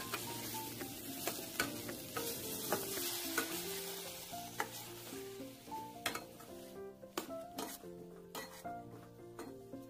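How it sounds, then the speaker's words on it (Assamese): Chopped onions fry and sizzle in a pan while being stirred, with steady frying hiss under repeated sharp scrapes and clinks of a utensil against the pan, close and continuous. "মই কাটি থোৱা পিঁয়াজখিনি দি পেলাই ফ্ৰাই কৰিম"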